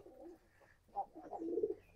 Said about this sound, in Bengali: এটা দেশি কবুতর।